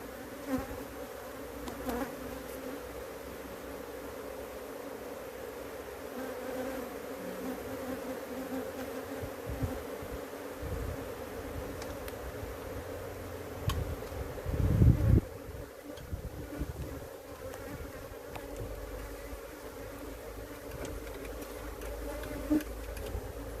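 Honey bees hum and buzz steadily around an opened hive, a continuous close drone with wind noise and brief handling bumps midway.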